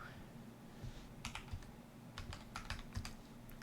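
Typing on a computer keyboard while booting into Arch Linux: quiet clicks in short irregular bursts over a low background hum, with no talking.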